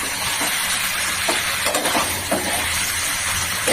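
Desi chicken curry frying and being stirred in oil, a steady loud sizzle with intermittent scraping stirs throughout, no voices.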